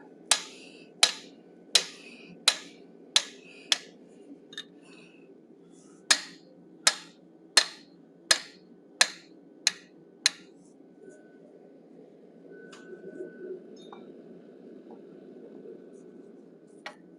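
A 1/8 inch fuller is struck with a hammer to texture forged steel, sharp ringing metallic blows in two evenly spaced runs of about six strikes each, separated by a short pause, then trailing off into quiet.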